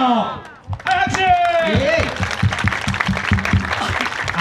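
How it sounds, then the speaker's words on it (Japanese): Audience members at a meeting break into rhythmic clapping after a short spoken call from a host, with the hand claps continuing loud and even to the end. "はい、拍手。"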